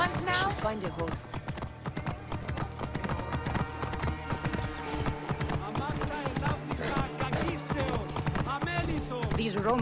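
A horse gallops in Assassin's Creed Origins, rapid hoofbeats pounding close and loud in a fast rhythm, layered with game music and voices talking.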